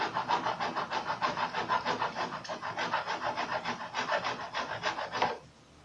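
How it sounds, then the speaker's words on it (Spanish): A hand saw cuts a wooden dowel flush with a board during work on a wood and melamine table, making steady, rapid back-and-forth rasping strokes up close, about two dozen of them, before it stops near the end. "procederemos a cortarlo con una sierra"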